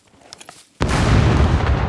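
A grenade blast from the survival game SCUM, thrown into a cargo drop: a quiet lead-in broken by a sudden loud, close boom that rolls on as a sustained rumbling roar with no voices over it.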